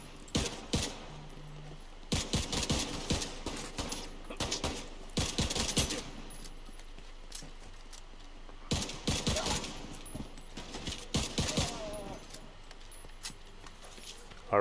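Loud bursts of automatic gunfire from a rifle in The Division 2 video game come in several separated volleys of rapid shots, each a second or two long, with quiet pauses and faint game sounds between.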